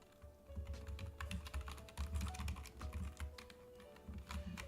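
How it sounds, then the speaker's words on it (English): Computer keyboard keys are pressed in a rapid, uneven clatter of soft clicks, fairly quiet and continuous, with a faint hum underneath. "I'm just smashing the key."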